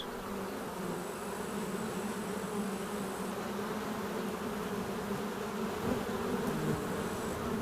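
A dense, steady buzzing of a honeybee swarm gathered around its old queen fills the air continuously, humming without pause at moderate loudness.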